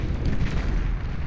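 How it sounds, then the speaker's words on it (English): Riot cannon fire from a bot in the real-time strategy game Beyond All Reason during an 8v8 match, a loud, dense, rumbling blast that fills the whole moment with no talk over it. "it can fire away with its little riot cannon every once in a while"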